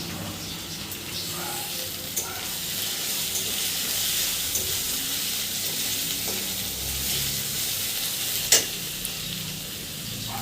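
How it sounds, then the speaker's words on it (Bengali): Onions fry in a pan with a constant close sizzle and hiss, a few light utensil taps and one sharper knock near the end. "পেঁয়াজটা আমার ভাজা হয়ে গেলে কাঁচা লঙ্কাগুলি দিয়ে দেবো"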